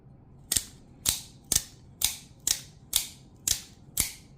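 A Lightning Elite OTF automatic knife fires its blade eight times in a steady rhythm, each shot a sharp, loud, close mechanical snap with a short metallic ring, heard alone.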